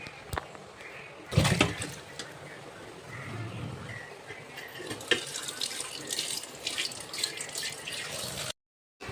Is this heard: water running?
yes